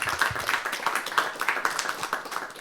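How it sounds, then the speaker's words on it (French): Audience applause at the close of a talk at the Paris-Saclay Summit, a steady patter of many hands clapping at moderate distance, fairly soft and continuous throughout. "on vous applaudit"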